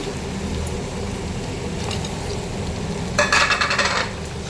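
Mutton with fried potatoes sautéing in a pan gives a steady, close sizzle and crackle, with a brief louder burst of frying noise as the food is stirred near the end.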